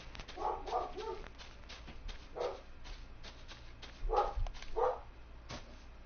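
A dog barks in short bursts, two quick barks, then a single one, then two more spaced apart, moderately close over a quiet indoor background.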